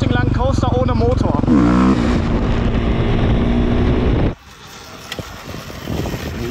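A motorcycle engine roars close by with wind buffeting the microphone during a long wheelie, then cuts sharply to a quieter rushing sound as the engine shuts off and it coasts.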